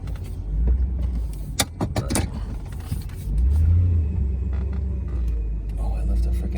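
A Ford Fox Body car pulls slowly forward out of a gate, its engine rumbling low and rising briefly, with jangling keys and some clicks and knocks close by.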